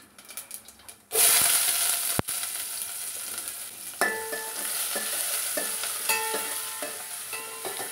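Mustard seeds, cumin and onions hit hot oil in a pan for a Nellore-style beans pappu curry, a sudden loud sizzle that settles into steady frying with stirring clinks, no talking.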